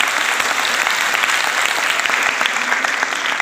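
A school gathering applauds its teachers with a steady wash of many hands clapping, even and sustained throughout without a break.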